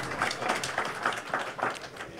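Applause at a formal gathering as a pastor is welcomed, a steady wash of many hands clapping with irregular louder bursts, moderately close and continuing throughout without speech over it.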